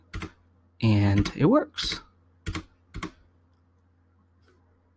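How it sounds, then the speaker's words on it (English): A computer keyboard's Shift key is pressed a few times, giving short, crisp clicks up close, with someone speaking briefly between them. "I'm going to press the shift button"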